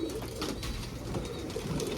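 Several Kolkata pigeons in a rooftop loft cooing softly and continuously, a low murmuring coo that blends with faint background ambience, with no talking.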